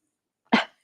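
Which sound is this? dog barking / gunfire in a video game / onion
dog barking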